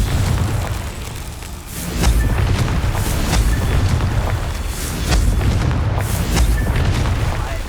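Confringo fire spell blasts in the video game Hogwarts Legacy, played on PS5 Pro: heavy rumbling booms that roll one into another, loud and dense, with no voices over them.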